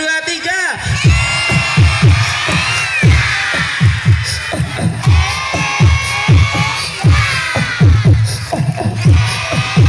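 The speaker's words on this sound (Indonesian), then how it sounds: "Tepuk tangan sambil teriak" An audience at a santri gathering in Sleman claps in rhythm and shouts together, dense rapid hand claps mixed with loud voices and whoops, close and energetic throughout.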